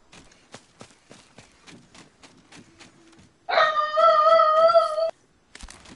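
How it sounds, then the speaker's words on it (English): A pet dog lets out one sustained, mournful howl, loud and close, after a stretch of quiet soft tapping and shuffling; it breaks off abruptly and a brief clatter follows. "My dog's hella sad right now because everybody left."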